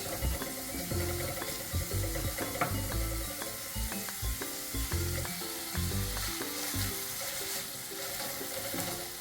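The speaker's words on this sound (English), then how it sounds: "So it's been about a minute since I've been sauteing these onions" Onions sauté in a pan for poha over a steady sizzle, stirred by a spatula that scrapes and knocks in quick, irregular rhythmic strokes, close and clear.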